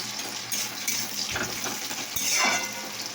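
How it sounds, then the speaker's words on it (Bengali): Chopped onion sizzles in a hot pan, a close, steady frying hiss broken by a couple of stirring scrapes and brief surges. "পেঁয়াজটাও ভাজা হয়ে গিয়েছে"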